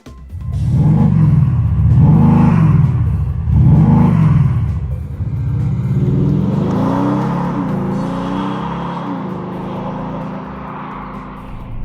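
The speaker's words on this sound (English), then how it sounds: "Now that is actually the diesel sound." A 2017 Maserati Ghibli diesel engine revs repeatedly in sport mode, deep rumbling surges rising and falling several times before settling into a sustained loud drone, close by.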